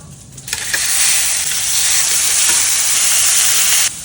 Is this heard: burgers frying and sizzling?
yes